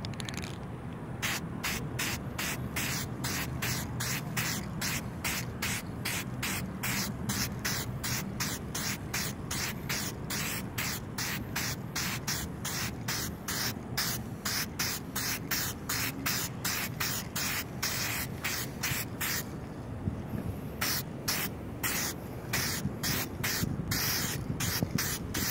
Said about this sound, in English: Now I'm simply just going to spray along the edge here